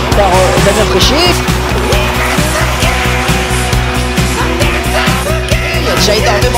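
A Nissan S14 and a BMW drift-racing on a circuit, engines roaring loudly and continuously with screeching tires, heard up close with a crowd or commentary mixed into the background.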